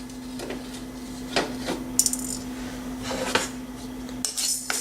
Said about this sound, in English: I am going to roast these ingredients without oil.